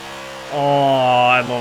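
A BMW Z4 drift build in Forza Horizon 4 sits quietly, then its engine jumps into a loud, sustained buzzing rev, holds a high steady note for about a second, and falls off near the end.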